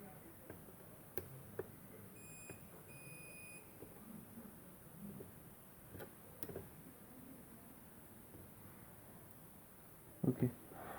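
A multimeter on continuity gives two short, faint electronic beeps while probing MOSFETs to ground on a dead HP 430 laptop board, amid quiet room noise and a few soft clicks.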